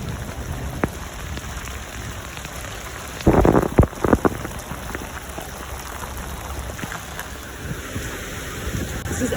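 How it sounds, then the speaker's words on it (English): Pouring rain drums steadily on surfaces around a boat in Miami, a constant hiss with a sudden louder burst of splashing and clattering partway through, no talk. "It's pouring with rain."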